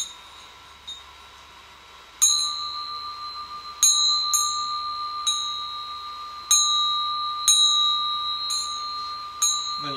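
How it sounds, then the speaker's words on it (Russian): A Buddhist vajra bell is rung about eight times, each strike giving a bright, sustained metallic tone that rings out and decays over a soft hum, with no talking. "Это не чаша, конечно, но вот эти ваджра колокольчики буддийские."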